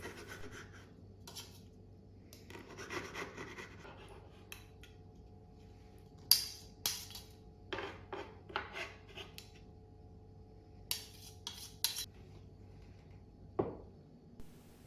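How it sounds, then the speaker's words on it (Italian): Sun-dried tomatoes being cut into pieces in a home kitchen, with soft, faint rasping knife strokes and scattered light taps and clinks of utensils against a board or bowl. "Taglio i pomodori secchi a pezzi e aggiungo tutto al resto degli ingredienti"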